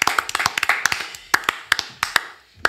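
A few people clap sparsely for a goal during a football discussion. The sharp, close hand claps are irregular, with short gaps between them, and no voices are heard.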